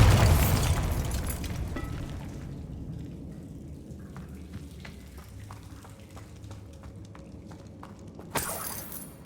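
The Bombarda spell detonates in Hogwarts Legacy with a loud, close blast at the start, then a long rumbling decay scattered with small crackling debris clicks and a final sharp pop.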